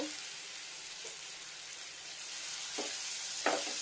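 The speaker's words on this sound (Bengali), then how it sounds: "ফ্রাই করবো পেঁয়াজটাকে। এখানে একদম স্লো টেম্পারেচার" Sliced onions frying slowly in a pan over low heat for a chicken kofta curry, giving a steady, soft sizzle with a few brief louder bursts from stirring near the end.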